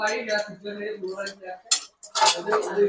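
A spoon scrapes and clinks against a pot while stirring chicken in a yogurt gravy for chicken rajbahari, in bursts of metallic scraping broken by short pauses, with a voice talking over it.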